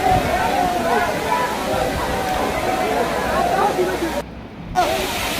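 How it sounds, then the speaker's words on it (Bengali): Steady roar of the large Khoiyachora waterfall, a dense continuous rush of falling water close by, with a brief dip near the end. "বিশাল ঝর্ণা,"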